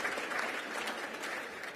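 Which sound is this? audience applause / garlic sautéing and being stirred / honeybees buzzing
audience applause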